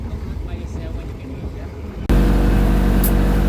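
A motorboat's engine roars loud and close on the Mekong Delta in Vietnam, kicking in abruptly as a steady, dense drone after a quieter stretch of water and background noise.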